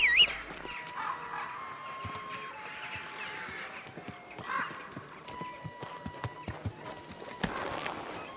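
Horse hooves clip-clop in Kingdom Come: Deliverance II, a steady run of close, sharp hoof strikes over outdoor game ambience with a faint musical tone, and no talk.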